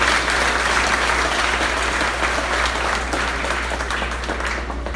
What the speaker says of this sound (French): M'a demandé nous pour nous applaudir tout le monde ça